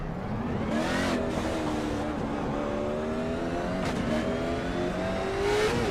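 Race car engine in iRacing on the Nashville Fairgrounds short track, a steady loud drone with rising and falling gear-whine harmonics as the car accelerates and lifts, continuous throughout.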